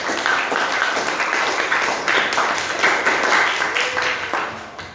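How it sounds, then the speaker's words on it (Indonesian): A classroom of students claps for Zahra Lutfiana, a dense burst of applause that swells and fades in waves over several seconds, with a little talking mixed in. "Tepuk tangan untuk Zahra Lutfiana."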